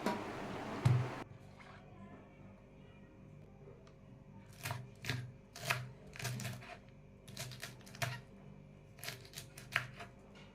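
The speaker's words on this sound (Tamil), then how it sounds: "அதுக்கப்புறம் ஹாஃப் முட்டைக்கோஸ் கட் பண்ணி ஒரு பாத்திரத்தில் எடுத்து வச்சுட்டு" Half a cabbage being cut with a knife: a quiet series of sharp, crisp chops landing at an uneven rhythm, about a dozen strikes heard close by, with no talk.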